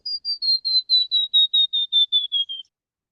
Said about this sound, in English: And this is the song of the white-browed warbler.